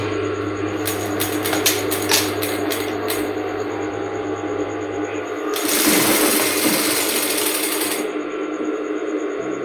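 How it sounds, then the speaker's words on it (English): A sewing machine runs close by, stitching a cone sleeve seam from shoulder to point. It runs in short whirring bursts, then gives one louder sustained run of rapid stitching before stopping, over a steady background hum. "I'm going to sew it from this place that I called the shoulder to the pointy edge."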